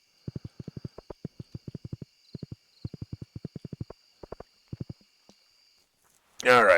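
A horse's hooves clip-clop in the Stardew Valley farming video game, a fast, even patter of sharp steps that comes in short runs with brief pauses between them. A short burst of broader noise cuts in at the end.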